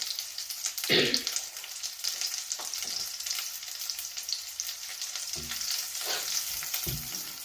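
Garlic fries in a pan with a steady close sizzle and crackle, punctuated by a few louder bursts and scrapes as it is stirred, alone without talk.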